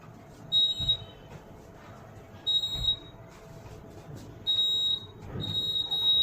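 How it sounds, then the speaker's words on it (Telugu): A homemade laser security alarm beeps in four high, steady electronic tones, each about half a second long, spaced irregularly over a low background hum. "ఈ రోజు అయితే మనం ఒక లేజర్ సెక్యూరిటీ అలారం అయితే తయారు చేసాము"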